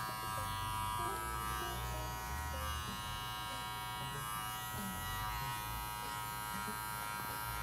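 Electric hair clippers with a 1.5 guard and an adjustable lever blend a low fade, humming steadily and continuously at close range with slight shifts in tone as they move through hair.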